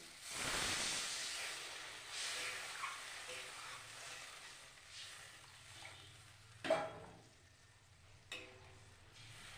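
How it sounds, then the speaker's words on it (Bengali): Water is poured into frying spice paste for amudi fish curry, a loud hiss and sizzle bursting at the start, then a steady softer bubbling with a couple of clinks and scrapes later on. "এবার জল দিয়ে দিচ্ছি।"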